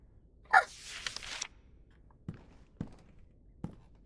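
A single sharp sneeze from a video game bursts out near the start, followed by a few soft thuds like footsteps, all fairly quiet with no talking.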